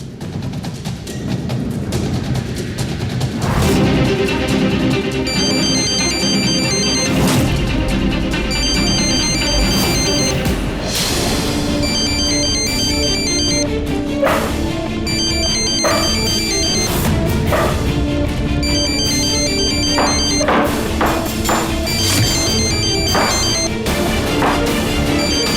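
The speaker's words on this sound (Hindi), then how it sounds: "मैं फोन ट्राई करता हूं उसका।" A phone ringtone plays while a call is being placed, a repeating electronic melody that sounds loud and continuous for the whole stretch, with no talking over it.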